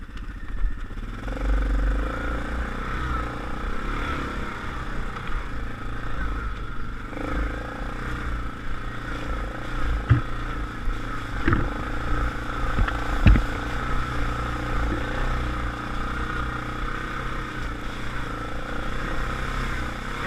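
A Yamaha ATV in low four-wheel drive drones steadily along a trail, its engine hum continuous and close, with a few light clatters and knocks midway.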